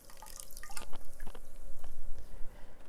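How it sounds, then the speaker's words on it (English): Water splashing and dripping while a face mask is rinsed off at a sink, close wet splashes and drips in an uneven rhythm. "let me just go ahead and rinse this out."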